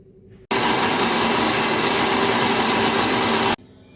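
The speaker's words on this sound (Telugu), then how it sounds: "కొంచెం వాటర్ వేసుకొని మిక్సీ పట్టుకోవాలి." A mixie grinding dosa batter with water, a loud steady motor whir that starts abruptly, runs about three seconds and cuts off, close by with no talk.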